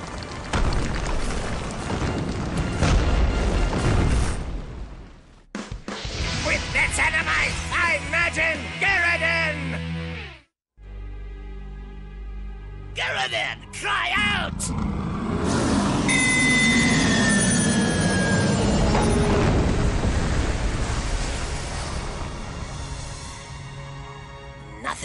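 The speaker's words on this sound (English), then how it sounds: "Avalanche! Move! We have to get off this ridge!" Cartoon avalanche rumbling down a mountain ridge, a loud sustained roar and crash that swells and fills the scene, broken by a brief silent gap, with shouting voices and dramatic music mixed in.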